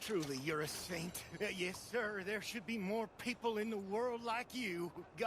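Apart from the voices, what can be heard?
No everyday noise stands out behind the speech.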